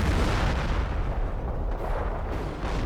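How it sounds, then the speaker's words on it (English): A heavy artillery barrage pounds continuously in Company of Heroes, Operation Market Garden 4v4 match, a dense rumble of overlapping booms and blasts without pause. "There's another artillery barrage."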